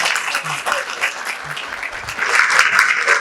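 Audience clapping at a college placement celebration party, a dense steady patter of many hands that builds slightly louder toward the end, with a few voices and cheers mixed in.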